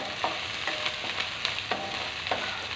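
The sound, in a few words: sautéing ginger garlic paste with salt in a pan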